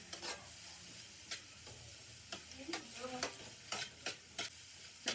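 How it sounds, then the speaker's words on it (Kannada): Onions frying in coconut oil with ginger garlic paste, a faint sizzle under repeated sharp stirring scrapes and clicks of a spoon against the pan, close by, with no talk. "ಈರುಳ್ಳಿ ಸ್ವಲ್ಪ ಟ್ರಾನ್ಸ್ಪರೆಂಟ್ ಆಗೋವರೆಗೂ ಫ್ರೈ ಮಾಡ್ಕೋಬೇಕು"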